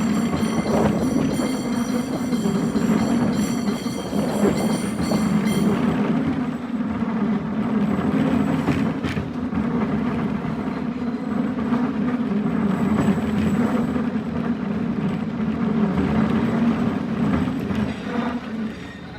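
A 1910-built San Francisco cable car on the California Street line climbing a steep hill; a loud, continuous low rumble and rattle of the car and cable, with steady mechanical whirring throughout and no voices.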